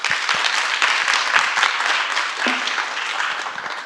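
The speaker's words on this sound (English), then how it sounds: "would you just give a clap?" Audience at a small business pitch event clapping steadily for a few seconds, a dense even patter of hands with no voices.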